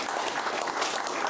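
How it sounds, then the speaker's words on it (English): Television studio audience giving a brief, steady round of applause for a film director guest, dense clapping at even volume with no speech over it. "Big round of applause"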